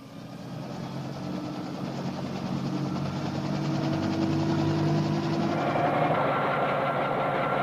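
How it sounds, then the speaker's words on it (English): President Kennedy's helicopter in 1963, a steady loud rotor and engine drone with a fast thudding pulse that holds constant throughout, close by and alone. "The first stage of the journey is aboard President Kennedy's helicopter to the airport"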